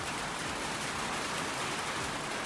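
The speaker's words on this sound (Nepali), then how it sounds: "कस्तो पानी पर्छ" Steady rain pours down outside a house in Nepal, a dense even hiss filling the space without a break, with no voices over it.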